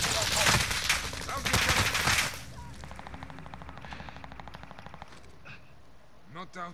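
Gunfire in a battle royale-style video game: a loud burst of rapid automatic shots at first, then a quieter stretch of fainter, rattling fire with a few sharp sounds near the end, under voices.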